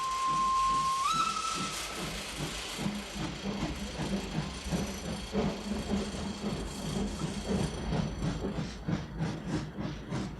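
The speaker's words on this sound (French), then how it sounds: "As-tu entendu le sifflet du chef de gare?" A single steady station master's whistle blast rings out briefly at the start, followed by the rhythmic chuffing and hiss of a departing steam train.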